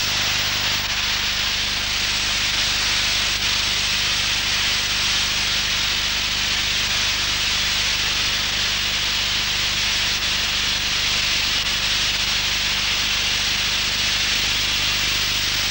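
An Armex Accustrip soda blasting system strips coating from the main hull of an Australian Oberon class submarine, producing a continuous loud, broadband roaring hiss that stays steady throughout, close and with no speech.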